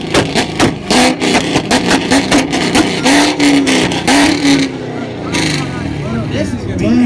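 A Corvette engine revving through its exhaust in short, loud, pulsing bursts that rise and fall, close by, with people talking and shouting over it.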